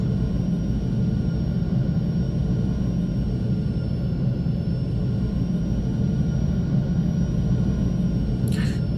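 An F-16 jet taxis toward the ramp in the X-Plane 12 flight simulator, its engine giving a steady, unbroken rumbling roar with a constant high whine, close and loud throughout, ending in a brief faint click.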